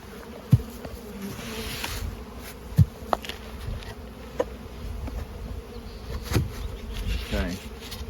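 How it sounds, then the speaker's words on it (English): Honey bees swarming at an open hive during a pollen flow, a dense continuous buzz close to the microphone with occasional louder passes of individual bees and some faint handling knocks. "And we have lots and lots of bees."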